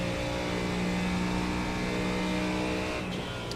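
A GT3 race car engine in the iRacing sim drones loudly and steadily at high revs, a constant close-up roar that holds for the full few seconds with no talking.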